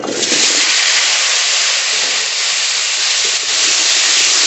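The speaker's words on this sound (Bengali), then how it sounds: "এই তেলের মধ্যে আলু ভেজে নেব" Cut potatoes frying in leftover oil from pangas fish in a home kitchen, a loud, continuous close-up sizzle and hiss that stays steady from start to finish with no talking.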